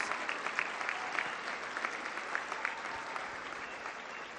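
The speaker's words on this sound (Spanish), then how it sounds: "queremos darle un aplauso a ellos y a todos los migrantes" A large crowd applauds returning migrants with steady, sustained clapping, a dense even wash with a few sharper individual claps standing out, lasting throughout.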